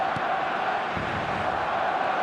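A stadium crowd in an eFootball match roars in a dense, continuous wash of cheering and chanting, steady and loud throughout with no break.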